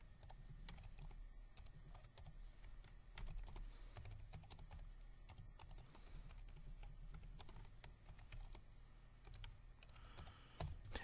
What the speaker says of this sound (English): I'll go ahead and type in the second string of text